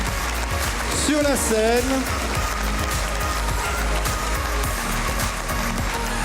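Sustained audience applause fills a Walloon agricultural awards ceremony as a breeder is honoured, a dense, even patter of clapping while a presenter speaks briefly over it.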